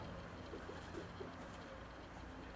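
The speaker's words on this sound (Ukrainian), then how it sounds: "Прямо над хатою голуби." Soft, low pigeon coos from above a house, a few brief calls spaced apart over a steady background hum, fairly faint and distant.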